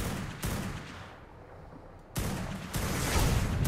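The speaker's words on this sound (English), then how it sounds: "I shot him like 10 times." Gunfire in the survival game Ark during a PvP fight, coming as loud, broadband bursts at the start and again through the second half, with a quieter lull in between.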